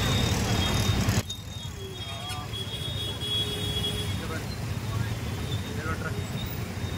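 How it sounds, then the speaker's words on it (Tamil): Busy city road traffic in Hyderabad, India, hums steadily nearby, with engines passing and a brief horn toot, under a constant urban roar. "பாருங்க எவ்வளோ டிராஃபிக்"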